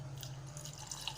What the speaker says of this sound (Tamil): இப்போ உங்களுக்கு தேவையான அளவு தண்ணி சேர்த்துக்கோங்க.